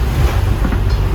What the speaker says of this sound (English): we have these huge flowing seas that are just about dying down